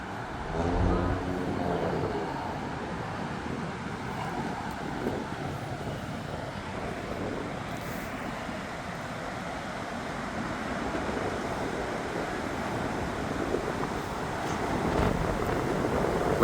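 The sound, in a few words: strong wind blowing in a Montreal street before a storm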